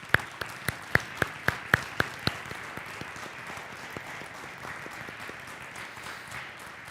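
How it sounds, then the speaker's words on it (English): A small audience at the opening ceremony of a space studies program in Granada claps in crisp, rhythmic beats that soon thin and fade into sparse claps. "a big round of applause to your supports"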